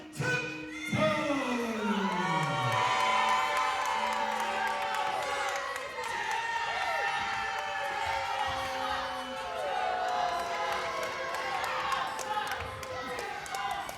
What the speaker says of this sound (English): This crowd is electric tonight